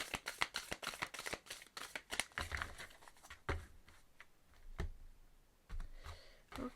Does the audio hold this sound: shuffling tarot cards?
yes